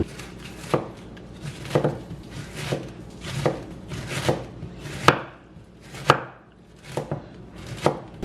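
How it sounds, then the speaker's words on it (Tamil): A sharp knife slices washed cabbage thinly on a cutting board, making crisp chopping knocks at a steady rhythm of roughly one per second, close and clear with no talk. "நல்ல மெல்லிஸாக இதை வெட்டி விடுவோம்"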